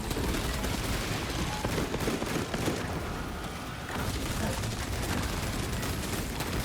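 Heroic Heavy Bolter fire in the video game Space Marine 2 roars in a dense, continuous stream of heavy rapid shots and explosive impacts, loud and unbroken apart from a brief dip, with voices talking beneath the din.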